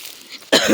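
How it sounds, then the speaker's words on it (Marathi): A woman with a lingering cough coughs once, sharp and close, after a brief quiet moment. "कालपासून खोकला पण लय लागला आहे मला"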